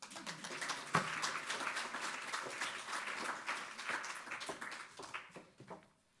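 Audience applauding at a conference marking an organization's 60th anniversary, steady dense clapping filling the room for several seconds before tapering off and falling quiet at the end.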